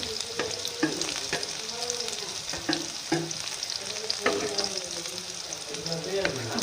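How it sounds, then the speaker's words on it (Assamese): Brinjal pieces fry in spiced masala in a pan for a masala brinjal and paneer curry, with a steady close sizzle and crackle. Repeated light scrapes and knocks of stirring punctuate it throughout. "মছলা ভজা হৈ গ'ল, ইয়াত বেঙেনা দিছোঁ"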